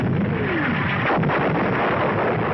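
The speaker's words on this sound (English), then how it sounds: "A direct hit on an enemy 88mm gun position." An artillery shell explodes on a German 88mm gun position in the North African desert, a loud rumbling blast with a heavy crack partway through, followed by a continuous roar of battle noise.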